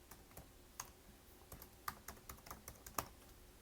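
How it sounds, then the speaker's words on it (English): Typing on a computer keyboard, a quiet run of irregular key clicks with occasional sharper taps, close and alone with no talk. "I had to pick one that had a lot of typing"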